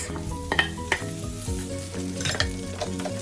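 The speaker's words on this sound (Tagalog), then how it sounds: "Gisahin hanggang ito ay maging golden brown. Sibuyas." Onions sautéing in a pan for chicken adobo cooked with Sprite, with steady close sizzling and frying and repeated spatula scrapes and stirring clatter.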